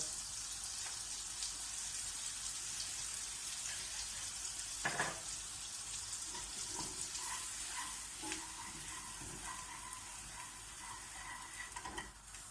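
Dried mint spooned into a hot pan of oil for a red lentil soup topping, giving a steady, close, hissing sizzle throughout with a few faint clinks of a spoon stirring, and no voices.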